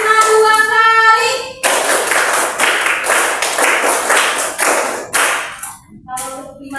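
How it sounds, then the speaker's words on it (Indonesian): A primary school class claps in unison in short, sharp bursts, a run of about a dozen distinct group claps near the listener, bracketed by a teacher speaking before and after. "Tepuk lima 2 kali."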